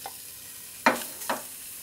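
Diced lardons browning in a saucepan without any fat, a faint steady sizzle broken by two short scraping stirs.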